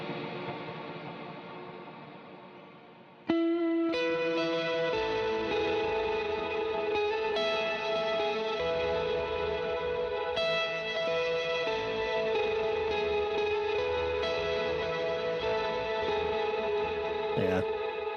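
Bright music drenched in a long reverb effect, sustained tones ringing and smearing together after a sudden loud entry, steady and full throughout with no talk.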